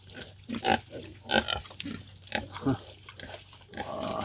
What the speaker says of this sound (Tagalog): Ito yung mga biik.